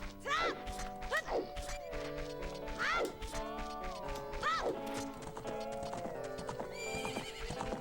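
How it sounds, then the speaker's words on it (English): A horse in the Ocarina of Time video game neighs several times in rising whinnies while its hooves clip-clop in a steady gallop, accompanied by bright in-game music throughout. "Horse."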